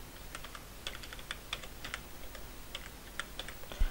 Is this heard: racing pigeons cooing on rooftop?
no